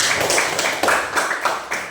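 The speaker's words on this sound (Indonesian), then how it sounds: "Tepuk tangan dulu untuk teman-teman" Classmates clap together in a classroom, a short burst of brisk, slightly uneven handclaps with regular accents, fairly close and with no talk over it.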